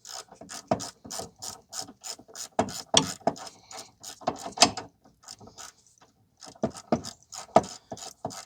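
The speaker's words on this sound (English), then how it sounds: "So now I have a 3/8 16 millimeter socket, shallow socket, and a ratchet." 3/8-inch ratchet with a 16 mm shallow socket on a 2016 Nissan Versa Note front stabilizer link: close, dry clicking bursts in repeated short strokes with brief pauses.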